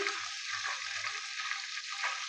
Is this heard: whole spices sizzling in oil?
yes